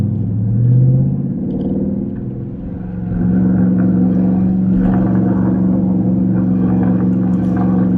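A loud car, a Dodge Charger or Challenger R/T, rumbles with a deep steady engine note heard from inside while driving, swelling briefly early on, dipping, then holding a strong low drone.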